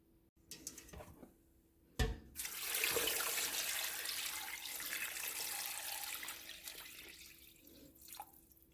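Water from a tap pours into a cooking pot holding bay leaves, garlic, salt and pepper for molé, a close steady rush lasting several seconds after a sharp clank, then tapering with light drips.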